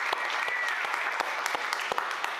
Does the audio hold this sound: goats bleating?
no